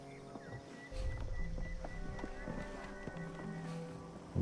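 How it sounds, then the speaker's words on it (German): Footsteps of another character in a video game, a run of soft, regular steps under a bed of sustained game music, moderately close and unaccompanied by talk. "Ich höre im anderen seine Schritte."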